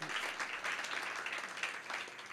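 Church congregation applauding during a sermon, a steady wash of many hands clapping together, fairly distant and even throughout the short stretch.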